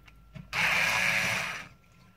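A motorised screwdriver fitted with a Torx T10 star bit loosens screws on a Mira Elite shower unit. It gives one steady, loud whirring burst of about a second, with faint handling clicks just before it.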